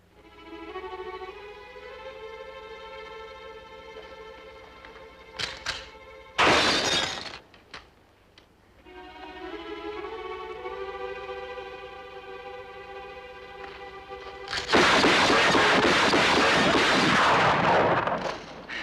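Rifle shots shattering bottles at target practice: two sharp bursts of loud gunfire and breaking glass, separated by stretches of sustained tonal music, the second burst longer and rougher.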